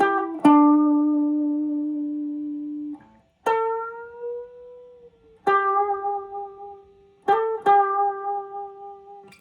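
Electric guitar picking a short lick of a few sustained, ringing notes in separate bursts with gaps between, close and clean with no voices, taken from a 2004 song.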